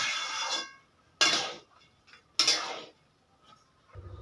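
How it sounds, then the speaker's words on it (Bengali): Paneer pulao being stirred in a pot with a spoon, three short bursts of scraping and clinking against the metal separated by quiet pauses, close and fairly soft. "আবারও আমি একটু ভালো করে নেড়ে চেড়ে দেব।"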